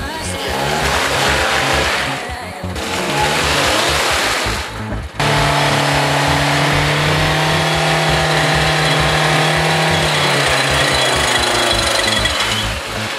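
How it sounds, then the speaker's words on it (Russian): Lada XRAY driving off-road with a loud, continuous rattling drone from the drivetrain and a sustained ringing tone from a worn transfer case, briefly dipping before resuming at full level. "Опять раздатка зазвенела."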